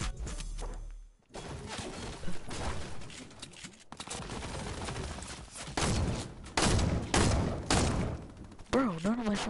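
Video game gunfire in a 1v1 match, with bursts of rapid shots and heavier thumps coming in clusters, loud and close, while people talk over the action.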